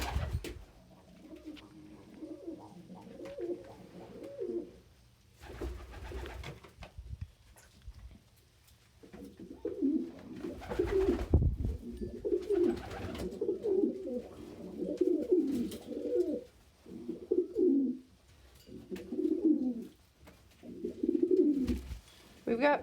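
Pet pigeons cooing in a loft, repeated soft rolling coos in irregular bursts close by, with brief thumps and rustles between them.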